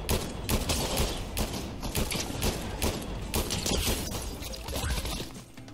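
Pistol and other gunfire in Fortnite, with dense rapid shots and crashing game effects continuing loudly throughout.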